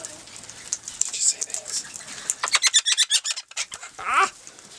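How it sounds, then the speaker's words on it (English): Wild Australian king parrots, a male and a female, give a quick run of sharp chirps and squawks at close range while being hand-fed, with faint human voices in between. "The male and female king parrot."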